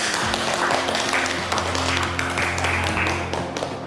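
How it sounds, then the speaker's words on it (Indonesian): Classroom clapping from students in a Catholic religious education class, a steady patter of hands over a low hum with scattered taps, fairly close and continuous. "Kita beri tepuk tangan dulu."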